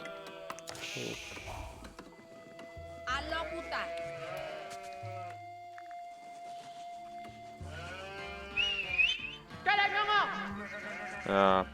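Sheep bleat repeatedly in Age of Empires IV, several wavering calls spread across the clip, mixed with game sounds while someone talks over them.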